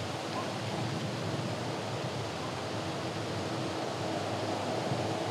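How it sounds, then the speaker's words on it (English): Steady wind rushes across an open golf course, a broad, even noise with no gusts or breaks, heard alone without voices. "see the branches just moving everywhere, a lot of wind."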